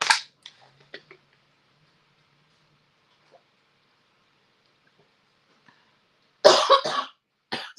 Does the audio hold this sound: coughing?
yes